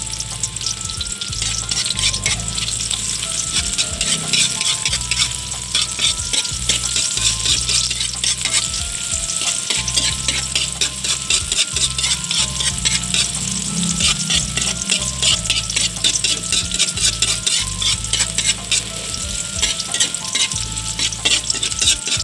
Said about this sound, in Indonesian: Setelah itu kita panaskan sedikit minyak, lalu kita tumis irisan bawang merah, bawang putih, dan cabenya